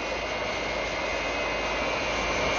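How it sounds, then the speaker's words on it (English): A jet airliner's engines in flight, a loud, steady broadband roar with a faint whine running through it, continuous and unbroken, no voices. "Captain Scarlet and Captain Blue have taken the controls, but the jet is not responding."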